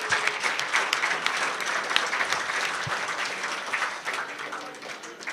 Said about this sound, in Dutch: En ik denk dat je moet beginnen met een groot applaus voor jullie zelf.